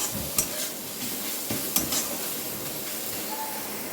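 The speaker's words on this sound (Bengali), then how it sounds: "গাজর আর পেঁয়াজটা আমার ভাজা হয়ে গেছে" Steady sizzling of carrot and onion frying in oil for Maggi noodles, with a few sharp scrapes of a spoon stirring the pan, close by.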